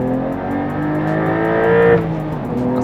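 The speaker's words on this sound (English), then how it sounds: "We're just going to test out some of that acceleration now." A Porsche 911 992 Carrera T, rated at 380 horsepower, accelerates hard: a loud, steady engine drone climbing in pitch, then a brief dip near the end as it shifts gear, heard from close inside the car.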